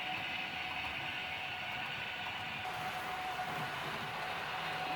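Amtrak passenger train passing through a station, a steady broad rumble of wheels and cars rolling by at moderate distance, continuous and even throughout with no voices.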